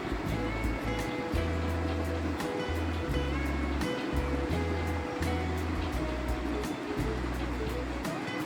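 A banana snack frying in a pan gives a steady, close sizzling hiss with a low continuous hum underneath, going on without a break throughout.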